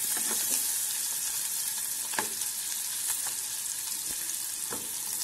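Collard greens fry steadily in oil and butter, a dense continuous sizzle with faint crackles and pops scattered throughout, close and fairly loud, with no talking.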